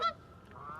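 A large goose-like bird gives a loud, brassy honk, then falls quiet and honks again at the end, two short calls close by.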